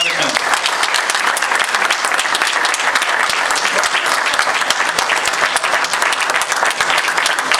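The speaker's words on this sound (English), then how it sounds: "Can we get one more big round of applause for Congressman Barney Frank?" Sustained crowd applause at a campaign kick-off event for a congressional candidate, dense steady clapping filling the room at close range from start to finish, with a few voices mixed in.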